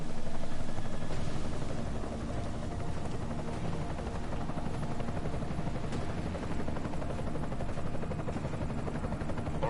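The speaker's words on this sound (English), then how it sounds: "Enemy helo sighted." An enemy helicopter in a Square Enix action game, its rotor drone loud and continuous throughout with no pauses.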